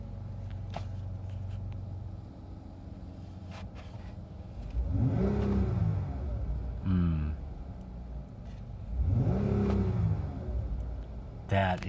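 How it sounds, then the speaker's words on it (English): A 2015 Dodge Charger SE with a V6 engine idles with a steady low hum, then revs up twice in rising and falling sweeps, with a shorter blip between them, heard from nearby with brief speech over it. "That is a healthy V6."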